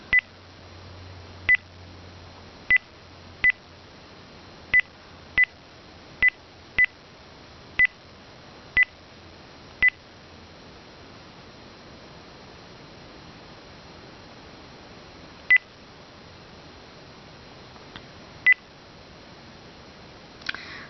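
Telephone keypad DTMF tones dialing a landline number, a run of about ten crisp beeps at fairly even spacing, then a pause and two more isolated beeps over a faint hiss.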